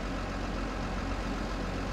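The engine of a KATO NK 750 YS-L crane truck in Farming Simulator 22 runs as a steady, dense, low diesel drone at constant level, with no speech over it.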